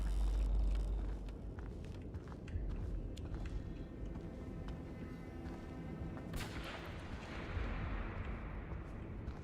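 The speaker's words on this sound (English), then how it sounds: "we heard a gunshot" A gunshot fires in the pixel-art psychological horror game Eclipsium, a loud low boom at the start followed by dark rumbling ambience and a second heavier blast later, with no speech over it.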